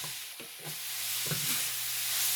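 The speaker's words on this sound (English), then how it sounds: "That's all it's doing, just frying. You can hear it frying." Collard greens sizzle and crackle steadily in hot oil in a pot, a constant bright hiss with a few louder pops and stirring clatters, close by.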